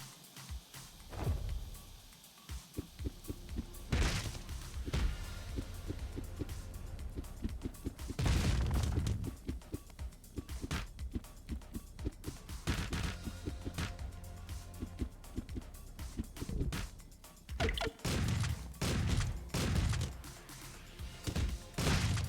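Shotgun blasts from a shopkeeper in Streets of Rogue, several loud booming shots at irregular intervals amid busy game noise and music, with no talk over them.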